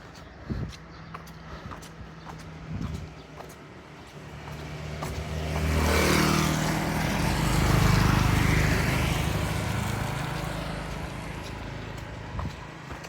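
A motorbike passes along a suburban road on the northern edge of Dalat, its engine swelling from a distant hum to a close, loud roar around the middle, then fading slowly, with light footsteps and faint voices nearby.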